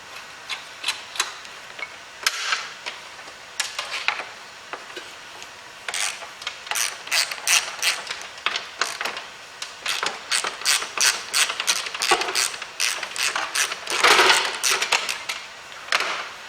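Bolts are screwed back in by hand in the engine bay of a 1993 Mitsubishi Pajero, producing quick ratcheting clicks in repeated bursts with short pauses, close and steady throughout, with no talk.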